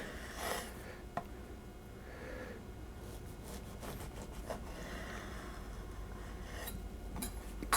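A knife slices Italian sausage into a few pieces for bruschetta, making faint, scattered rasping cuts close by against a quiet kitchen background.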